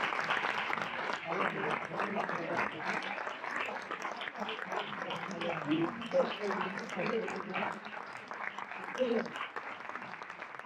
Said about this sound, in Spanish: recibamos con un aplauso a nuestro invitado, actor Abel